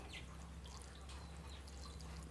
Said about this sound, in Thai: หลังจากนั้นเราก็รดน้ำค่ะ รดน้ำให้ชุ่มเลย